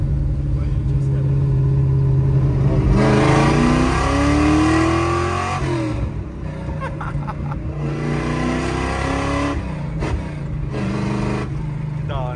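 Classic Ford Maverick V8 revving and accelerating hard on an open road, loud and close, with engine note rising in repeated sweeps and brief lifts between pulls; voices talk faintly beneath.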